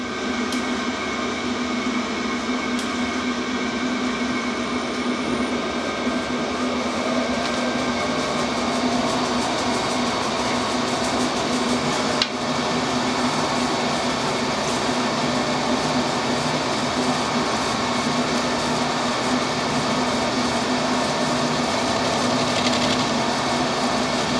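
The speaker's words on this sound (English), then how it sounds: "I've got one of those Banggood cutters in for the aluminium. We'll give that a try on brass, it should work alright" An SNNC 303 CNC mill cutting brass with a Banggood end mill meant for aluminium, producing a steady whine of the spindle and cutter with a constant hum and no break in the cut.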